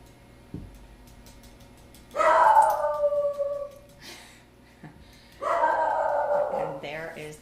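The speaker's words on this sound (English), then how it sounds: "And there is the dog barking." A dog barks and howls in two drawn-out bursts a few seconds apart, fairly close and loud against a quiet kitchen background.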